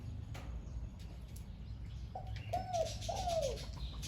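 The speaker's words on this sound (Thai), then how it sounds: "นี่ครับริวตันต้องเสียงอย่างนี้นะครับ" Liu tan songbird, a prized Thai songbird, giving a few clear, fluting whistled phrases in the second half, moderately close, over a steady low background hum with no talking.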